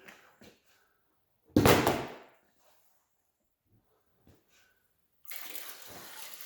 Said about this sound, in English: We're just going to drain off the water without spilling the grit.